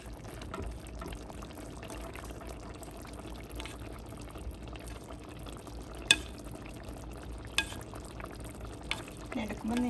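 A spoon stirs Kerala-style pomfret fish curry with grated coconut as it bubbles in a pan, a steady soft simmer broken by a few small knocks against the pan.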